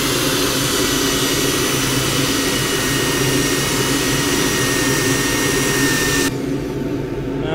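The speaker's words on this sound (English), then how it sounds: "Right, that now gets sanded." Sanding the rim of a natural-edge wooden bowl spinning on a lathe: a loud, steady whirring hiss that holds constant, then drops abruptly near the end to a quieter motor hum.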